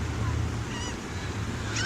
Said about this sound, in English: Look at all the seagulls.